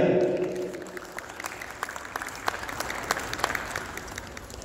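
An audience at a Youm-e-Pakistan gathering in March 2019 applauds as a professor is introduced. A voice trails off at the start, then scattered, steady clapping continues at moderate volume.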